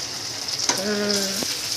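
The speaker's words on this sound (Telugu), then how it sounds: "వాటర్ అంతా కుక్ అయిపోయింది ఇప్పుడు ఫ్రై అవుతున్నాయి అనమాట" Chicken keema frying in a pan once its water has cooked off: a steady, close sizzle, with a brief hummed tone rising over it midway.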